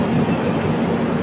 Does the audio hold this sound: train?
yes